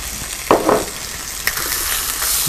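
Chicken frying in butter in a pan, sizzling loudly and steadily up close, with a few scraping stirs and clatters breaking through the constant hiss.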